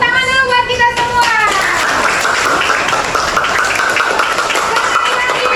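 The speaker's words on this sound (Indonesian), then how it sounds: "tepuk tangan dulu buat kita semua" Applause from a primary school class, a steady wash of clapping hands lasting several seconds, with children's voices mixing in near the start.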